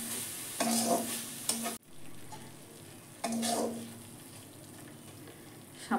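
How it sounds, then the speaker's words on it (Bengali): Spices fry in oil in a pan on low gas, a soft steady sizzle broken by two louder bursts of stirring and scraping against the pan, heard up close. "মশলাগুলো একটু ভেজে নেব।"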